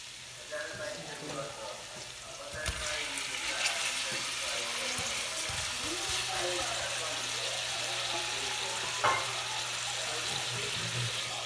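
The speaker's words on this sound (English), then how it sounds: "Once the garlic starts to sizzle, we can now add in the seafood." Steady crackling sizzle of garlic and seafood in a hot pan, with a faint voice and soft kitchen clatter in the background.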